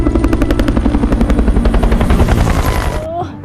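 A helicopter in a film chase scene drones with a loud, steady rotor thump and engine roar throughout, then cuts off abruptly near the end with a brief rising tone.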